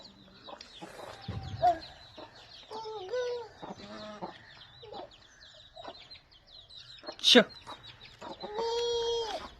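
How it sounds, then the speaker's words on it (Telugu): Chickens cluck and squawk around a village house. The calls are moderately close, intermittent and overlapping, with a sharp squawk near the end and faint background noise. "నా మాటల కన్నా కోళ్ళ మాటలు ఎక్కువ వినబడతాయి సౌండ్"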